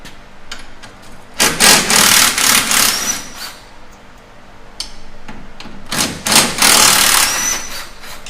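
Impact wrench bursts loosening motor mount bolts on a Polaris RZR XP 1000 UTV, two loud sustained rattling runs separated by quieter shop clatter and clicks.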